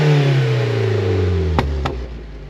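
A car engine idles and revs at a Vauxhall meet outdoors, a loud close steady rumble with a couple of sharp clattering pops near the end as the revs drop.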